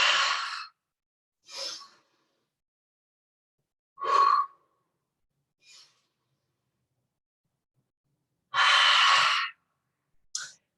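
Slow rounds of yoga breathing during a morning vinyasa practice: several audible exhales and inhales, some long and airy, others short, separated by quiet pauses, close and clear with no talking.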